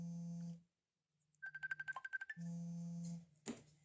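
A telephone rings with an incoming call that keeps coming: an electronic ringtone sounds, stops, a quick run of rapid tones follows, then the ring returns, faint and nearby with no talking.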